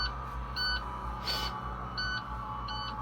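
Electronic warning beeps from a bus signalling the back door is not closed: short, bright tones repeating roughly every 1.4 seconds over a low engine hum, with one louder hiss between them.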